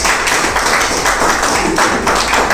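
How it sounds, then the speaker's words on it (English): An audience at a book release festival applauds, with dense, steady clapping from many hands that fills the whole stretch at close, loud level. "So give them a big applause and let us open this."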